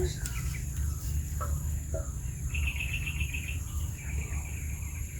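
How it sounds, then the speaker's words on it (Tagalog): Outdoor bird calls: a few short chirps and a brief trilling series sound over steady insect buzzing and low background rumble, fairly faint, with no clear speech. "Ibon na yan."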